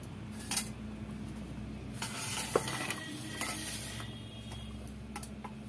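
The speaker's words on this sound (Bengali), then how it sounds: "আমি এই যে এই গ্রেভির মধ্যে দিয়ে দেব ভাতগুলো।" Cooked rice is tipped into egg biryani gravy and stirred in a pan, with soft sizzling under scattered spoon scrapes and metal clinks, moderately close and without talk.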